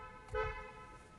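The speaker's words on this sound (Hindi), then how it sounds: "ये इसका हॉर्न।" A 2021 Kia Seltos HTX sounds its horn once: a single short, fairly loud toot heard close up inside the car, with no talking.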